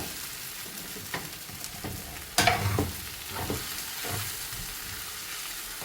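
Yam pieces frying in two tablespoons of oil for a pickle, stirred now and then: a steady close sizzle with several scraping stirs, one louder clatter near the middle.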